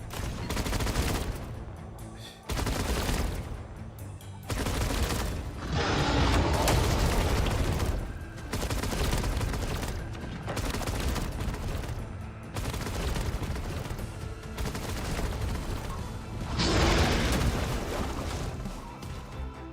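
A turret gun tower in Arknights Endfield fires in repeated heavy bursts, loud volleys broken by brief gaps across a long stretch, with booming impacts mixed in.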